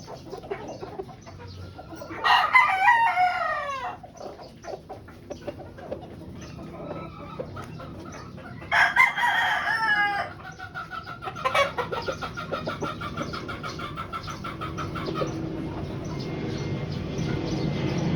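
A pure white Kelso brood stag rooster crows twice, close and fairly loud, with scattered clucks and rustling farmyard noise between the calls.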